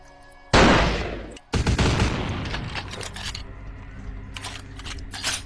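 Sniper rifle fire in the game Vampire: The Masquerade – Bloodlines: two loud, close shots, each with a long, echoing decay, followed by fainter mechanical clicks.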